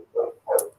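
A dog gives two short, close barks in quick succession, each sharp and clear in a quiet room.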